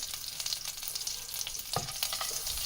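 Butter melts into oil in a kadhai, sizzling with a steady soft crackle and a few brief stirring scrapes, quiet and close with no speech.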